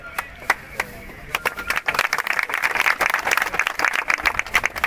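Crowd applause at an outdoor gathering in Jammu and Kashmir, starting as a few scattered claps and swelling into steady, fairly loud clapping from many hands.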